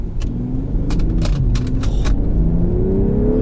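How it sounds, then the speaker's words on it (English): In sport mode, a BMW M340i with its six-cylinder engine blips and rumbles loudly through quick, aggressive downshifts, with sharp rev spikes climbing over a deep, steady engine drone. "in sport mode, the transmission very aggressively downshifts to keep you in the power band."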